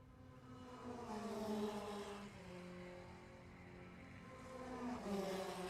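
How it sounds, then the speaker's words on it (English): Spectator go-karts racing around the track at the Briggs & Stratton Motorplex, small buzzing engines whining up and down in pitch as they circle, moderately distant and continuous, with no talk. "Spectator karting back there."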